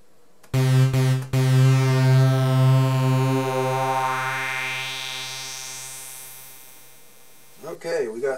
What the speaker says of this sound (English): Okay, we got three synth tones now.